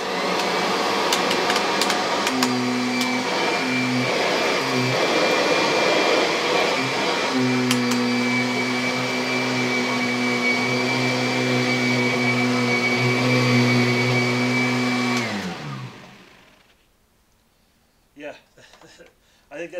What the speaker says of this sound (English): That's by far the loudest vacuum here